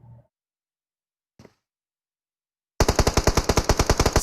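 Sustained rapid automatic gunfire from a battle royale video game bursts in loud and close after a near-silent stretch, preceded only by a couple of faint brief thuds.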